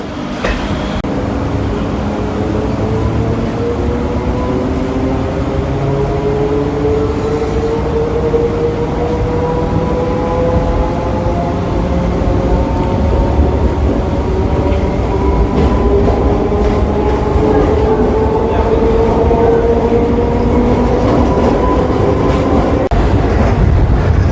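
A Kolkata Circular Rail local train runs on an elevated line near the Khidirpur dock area, heard from inside as a loud, constant rumble with slowly rising and falling wheel and motor tones over nearly half a minute.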